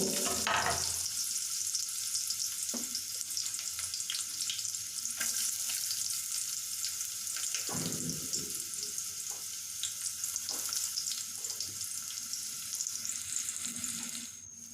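Green chillies, onion and curry leaves sizzle in hot oil for a spiced tempering, a steady, close frying hiss that runs continuously with occasional stir clinks and no talking.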